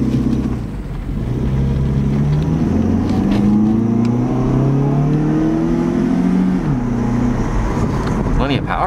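A 2007 Chrysler PT Cruiser Limited accelerates on a hot day, its engine note climbing steadily through rising harmonics, then dropping briefly on a shift before pulling up again, with some wind rush across the microphone.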